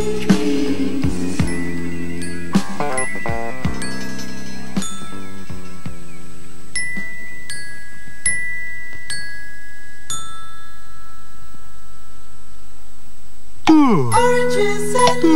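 Bells chime in a nursery-rhyme recording: a series of clear, ringing tones struck one after another with long sustained decay, sounding alone before a louder musical passage returns at the end.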